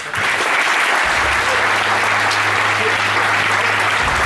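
Audience in an event hall giving sustained, dense applause, loud and steady throughout with a low hum running beneath.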